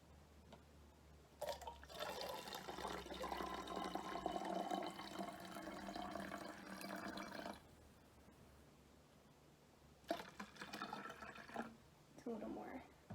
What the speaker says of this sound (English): you're going to take your bottle and you're going to fill it about 1/4 of the way with water